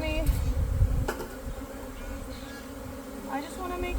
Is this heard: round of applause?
no